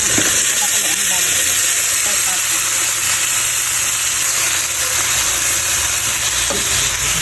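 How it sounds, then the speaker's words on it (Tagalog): Garlic and onion sautéing in a hot pan while pork is cooked, a loud continuous sizzle and hiss with faint stirring scrapes, heard up close. "Para din ako magigisa ng bawang. Ang onion."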